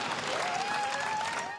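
A crowd cheers and applauds people arriving back home in Madison, a brief burst of clapping and shouts at moderate distance.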